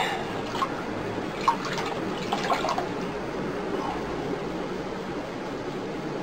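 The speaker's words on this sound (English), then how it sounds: "I'm actually just going to wipe this down and try and get as much of the dirt off just with water, rag and water" A wet rag and plain water wipe dirt off a plastic surface, giving soft, steady wet rubbing and light watery swishes at close range, with a few brief splashy accents early on and no talking.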